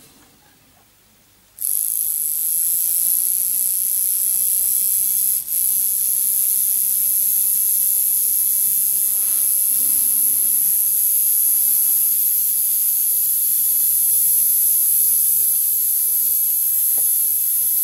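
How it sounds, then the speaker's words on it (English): A Klein Modelbahn model locomotive motor, on an ÖBB 1046 with a broken frame, starts after a short quiet moment and then whirs steadily with a high, thin electric whine, close and unbroken. "These Klein Modelbahn motors are not really high RPM motors"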